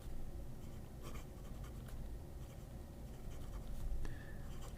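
A soft-nib Tagmoon Cologne Cathedral fountain pen scratches faintly across paper in short strokes, quiet and close, with no voices.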